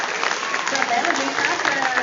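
An audience at a school civic event honouring Antonieta de Barros claps in a sustained burst of applause, heard under a speaking voice close by.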